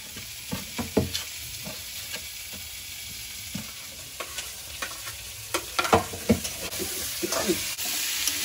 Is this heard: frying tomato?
yes